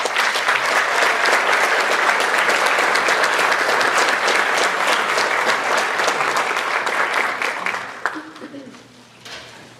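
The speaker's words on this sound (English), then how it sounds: "can we give a round of applause for our string quartet?" A high school awards night audience applauds a string quartet with dense, sustained clapping that holds steady for about eight seconds, then tapers off, with some voices mixed in.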